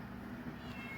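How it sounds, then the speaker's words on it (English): A spoiled house cat lets out a drawn-out meow, faint and thin over a steady indoor background hum, heard alone without talk. "that's my cat"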